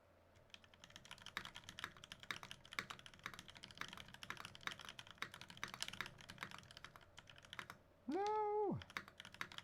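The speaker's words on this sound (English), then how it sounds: "All right, one last typing test." Typing on a mechanical keyboard with Kailh Cream switches and GMK Hyperfuse keycaps, a quick continuous run of close, crisp keystrokes. A short tonal beep near the end interrupts the clatter.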